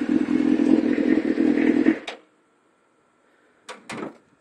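A 1998 Suzuki GSX-R 600 SRAD idles close and steady, then cuts out abruptly when its kickstand is lowered, leaving near silence before two short metallic clunks.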